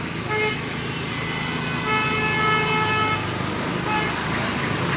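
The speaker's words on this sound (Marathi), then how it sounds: "आज इथं ट्रॅफिक झाली कारण रस्ता बारीक असल्यामुळं गर्दी होती" Steady road traffic on a narrow ghat road at the Waghjai temple bend of Shingroba ghat, with engines rumbling and repeated car horns tooting through the middle and end, loud and close.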